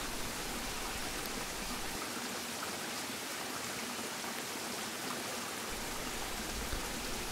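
Rain falls steadily in a mountain valley during an overnight bivouac, a dense, even hiss of drops with a low rushing undertone like a nearby stream, continuous and moderately faint throughout.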